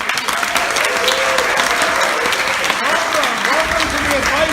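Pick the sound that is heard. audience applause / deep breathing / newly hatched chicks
audience applause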